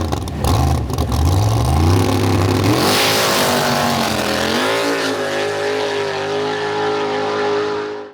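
A nitrous small-block drag car launches and pulls hard down the strip, a loud roaring engine climbing in pitch through gear changes, heard from outside and fading at the end.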